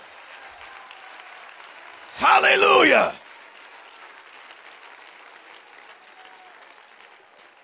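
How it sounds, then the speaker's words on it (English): A church congregation at an Apostolic preaching service bursts into loud clapping for about a second, a sharp dense burst rising out of quiet room tone and cutting off abruptly, with a brief spoken word before it. "Somebody clap so loud the devil can hear you."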